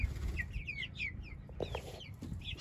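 Young chickens about a month old cluck in short, high chirpy bursts at close range, with no talking and a steady low background rumble underneath.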